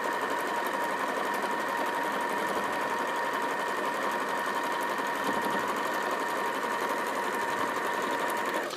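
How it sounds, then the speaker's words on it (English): A sewing machine runs steadily for nearly nine seconds, stitching a quarter-inch seam down the center line of a jelly roll quilt, with a constant close whirring hum and no talk. "you're going to sew 1/4 of an inch down the center line all the way"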